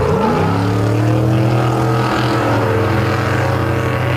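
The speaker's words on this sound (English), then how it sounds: "Celebratory donuts as tradition out there on the pavement" A modified tough truck spins celebratory donuts on pavement at an Indy event, its engine revving loud and close with sliding pitch shifts as it circles continuously.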